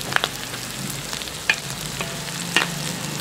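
Crumbled salted duck egg fries in a pan with a steady low sizzle, punctuated by a few sharp spatula scrapes and clicks; no one speaks.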